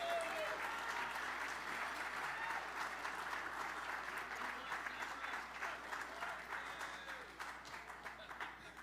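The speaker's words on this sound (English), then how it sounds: "warm applause." A ballroom audience at an evening awards gala gives sustained, steady applause that fills the whole stretch, dense and even, tapering only slightly toward the end.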